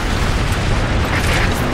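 Dense, continuous booming roar of mortar explosions in Earth Defense Force 5, loud and close, a sustained rumbling barrage with no breaks and no speech.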